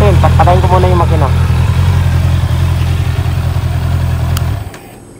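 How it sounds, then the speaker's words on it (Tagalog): A vehicle engine idles with a steady low rumble beside a tire punctured by nails, someone speaking briefly over it at the start; the engine then cuts off and the hum dies away into near silence. "Patayin ko muna yung makina."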